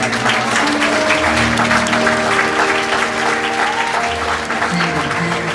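A congregation claps at a celebration-of-life memorial service: sustained, dense applause fills the room for several seconds over steady instrumental tones.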